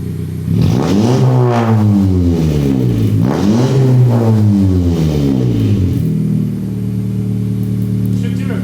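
A car engine cranks, catches and revs in two rising bursts before settling into a steady rough idle, loud and close, on a car with a newly changed exhaust being set up to shoot flames.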